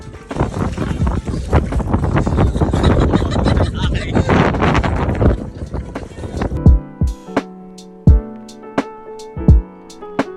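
Strong wind roars across the microphone with heavy buffeting for several seconds, then drops away, leaving a few sharp knocks and thumps.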